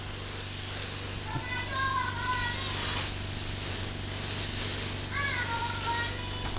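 Spray painting motorcycle parts during a Honda Supra restoration outdoors, producing a steady, continuous close hiss of the spray gun throughout, while a person speaks over it.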